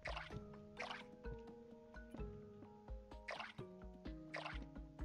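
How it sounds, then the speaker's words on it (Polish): A watering can pours water onto a plant on a farm plot in the Core Keeper video game, making repeated soft drips and splashes over steady tonal game music. "No, no i teraz podlewam go."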